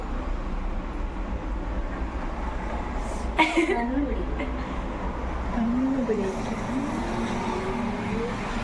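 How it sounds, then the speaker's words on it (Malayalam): Heavy vehicle traffic passes along a sunny street in Dubai as someone waits at a bus stop, with a low continuous engine rumble and one sharp transient midway. A person talks faintly over it. "കണ്ടോ ഇതൊക്കെ ബസ് പോണതാ."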